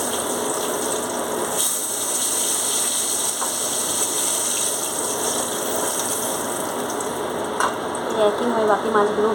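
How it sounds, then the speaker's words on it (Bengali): Pomfret fish fry in hot oil in a pan with a continuous crackling sizzle. A few sharper pops and scraping stirs cut through near the end. No voices are heard. "একইভাবে বাকি মাছগুলো ভেজে নেব।"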